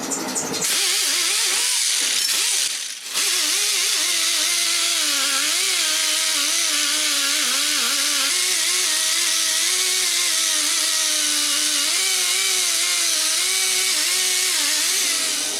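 Steady high-pitched whirring of a power sander grinding rust off an auger pulley on a 30-inch 11 hp Tecumseh Craftsman snowblower with 120-grit abrasive, loud and continuous after a brief pause near the start, with no talking.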